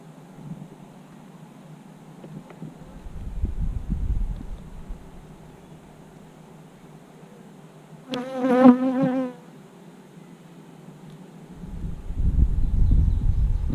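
Honey bees buzz steadily around an open hive, a close, droning hum with one loud bee passing right by the microphone in a sharp rising-and-falling whine, while wind gusts rumble at times.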